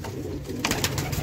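Sialkoti pigeons give a short, soft coo up close, a brief low murmur with a quick flutter of sound at the end.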